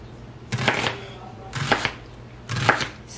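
A knife cuts an onion into slivers on a cutting board in three distinct, evenly spaced bursts of crisp chopping, close and clear with no talking.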